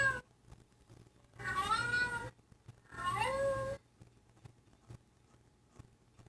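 A cat meows twice, each call long and drawn out with a wavering pitch and a pause between them, close by and with no speech over it.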